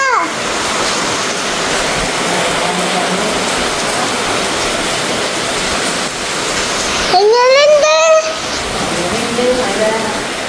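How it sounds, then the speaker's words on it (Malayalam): Heavy rain pours outside a house in a constant loud, dense hiss, with a voice speaking briefly over it near the end. "ദേ നല്ല മഴയാണ്"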